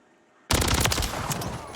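Gunfire erupts abruptly after a quiet moment in a Modern Warfare 3 gunfight, a loud rapid burst of automatic shots that keeps rattling to the end.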